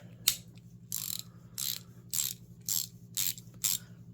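Clicking of a Herbrand USA Professional Series 3/8 inch ratchet, close and crisp: seven sharp bursts of clicks in a steady rhythm over a low constant hum, with no speech.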